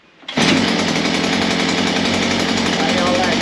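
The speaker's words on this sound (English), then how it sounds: "Now I'm gonna leave the choke off and see if it'll fire up on one pull." A VEVOR 43cc two-stroke garden cultivator-tiller engine fires up on one pull after a short rustle, settling into a loud, close, steady buzzing run.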